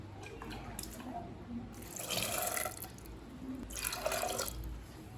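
Water poured onto soaked chana dal while cooking sundal, a steady splashing, trickling pour rising in two louder surges, close by with no talk.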